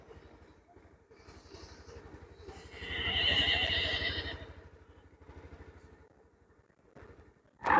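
Horses at a temple festival in Anthiyur neigh loudly, with one long, shrill whinny rising and falling in the middle over a rhythmic low background and crowd-like noise, and another brief call at the end.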